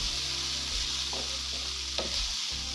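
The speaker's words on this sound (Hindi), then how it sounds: "अब मैं 5 मिनट के लिए इसको इसी तरह से भून लूँ अच्छी तरह से।" Dry dates halwa is roasted and stirred in desi ghee, giving a steady close sizzle from the pan with faint scrapes of the stirring spoon and no talking.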